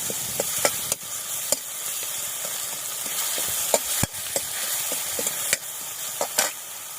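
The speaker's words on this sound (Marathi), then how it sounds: "लगेच आपलं हे टमाटा पण टाकून घेऊ त्याला चांगलं परतून घ्यायचं" Chopped tomatoes sizzling and frying in a pan over a wood-fired village stove, with steady spitting and crackling broken by sharp stirring scrapes and clinks of a spoon against the pan, close and fairly loud, no talk.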